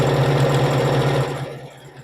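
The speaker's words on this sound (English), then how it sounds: "This is a domestic sewing machine." A domestic sewing machine built for quilting hums along in a steady, fast mechanical whir up close while stitching quilt blocks, then slows and winds down near the end.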